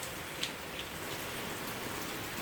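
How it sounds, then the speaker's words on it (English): Steady rain falls outdoors in an even, soft hiss with a few faint drop patters, no voices. "That's rain, boy."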